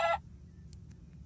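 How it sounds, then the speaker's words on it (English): A Minecraft chicken gives one short, loud clucking squawk at the very start, right after being struck, then only a low game background hum. "I hit you, chicken. That's what you get."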